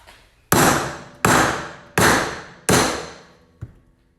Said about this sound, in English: Give it a couple of good whacks.